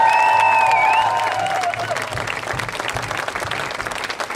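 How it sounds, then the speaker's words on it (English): A crowd at the first Steinbach Pride event applauds loudly for the organizers and volunteers, opening with a high whooping cheer over the clapping. The applause then carries on as a busy patter that gradually thins out. "Another round of applause for the organizers and volunteers"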